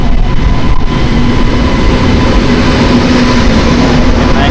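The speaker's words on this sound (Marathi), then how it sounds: "वाजलेत बरोबर 3:45, जवळजवळ 4 वाजायला आलेत आणि आपली ट्रेन आली आता." A Bangalore CSMT Express train pulls into a station on a rainy afternoon, a loud, steady low rumble with a faint tonal whine running through the whole stretch.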